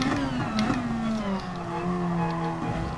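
Gr.2 race car engine at Suzuka in GT Sport, a steady, moderately loud drone that revs and sweeps down in pitch through shifts, with no talking over it.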